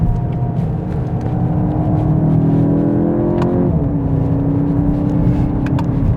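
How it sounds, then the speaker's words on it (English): A car with a DSG gearbox accelerates hard on an open road, its engine note climbing steadily before a brief pop-like break at the high-rev gear change around the midpoint, then pulling on under steady road and wind roar. "Do like that DSG fart, they call it, don't they? When you're in the high revs and you change gears, it gives you that little noise."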